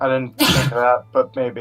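A single sharp sneeze bursts out between snatches of nearby talk.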